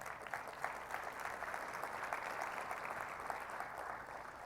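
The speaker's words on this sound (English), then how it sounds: "So please give those two folks a round of applause." An audience at a bowling industry expo breaks into steady, sustained applause, many hands clapping together in an even wash of sound that holds for several seconds without speech.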